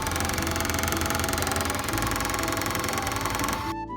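A motorbike engine with a loose nut runs close and loud with a rough, knocking, sewing-machine-like chatter, then cuts off abruptly near the end.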